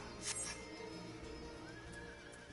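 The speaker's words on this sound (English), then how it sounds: "This is the horse of air." A horse mount in the Final Fantasy 14 video game gives a single faint, drawn-out whinny, with soft hoof clip-clops and light game ambience behind it.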